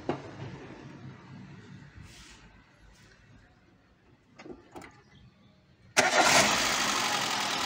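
A newly installed Peugeot 206 petrol engine cranks and catches suddenly, jumping to a loud, steady running roar after a few seconds of quiet rustling and faint background noise.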